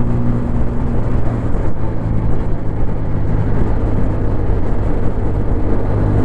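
A 2024 TVS Apache RTR 160 4V motorcycle engine hums in fifth gear at a steady cruise, a loud, continuous low drone mixed with rushing wind noise.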